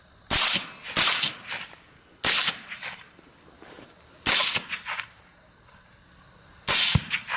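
Four loud, sharp gunshots ring out at regular intervals during a night hunt for feral hogs on farmland, each followed by a short echoing tail.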